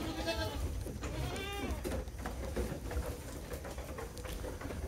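Goats bleat during natural mating, with several wavering bleats in the first two seconds over steady rustling and background murmur.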